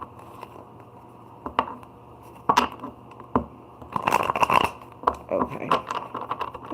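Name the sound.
shuffling tarot cards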